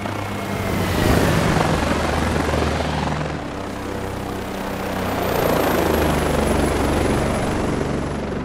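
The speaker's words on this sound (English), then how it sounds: "true-to-life helicopter audio simulation" Continuous helicopter rotor thumping with a loud engine whine in a flight simulator game, steady and close, swelling slightly as it passes.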